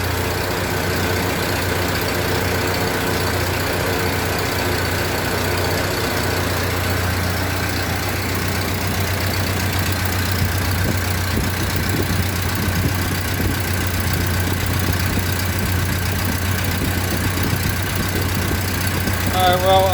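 Model A Ford pickup truck engine idling while warming up, a steady low rumble throughout with faint background noise and occasional soft clanks.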